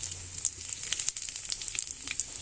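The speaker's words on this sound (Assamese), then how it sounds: "এতিয়া এটা গোটা জিৰা দিম আধা চামুচ।" Half a spoon of whole cumin seeds crackles in 50 grams of hot mustard oil in a wok, a close, busy sizzle with quick popping seeds and no voices.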